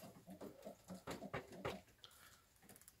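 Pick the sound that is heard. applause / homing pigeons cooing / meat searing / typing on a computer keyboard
homing pigeons cooing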